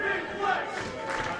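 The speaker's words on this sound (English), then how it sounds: "listen to the St. Louis crowd get behind" A St. Louis crowd at a pro wrestling show roars and yells in a sustained burst, dense massed voices rising and falling briefly.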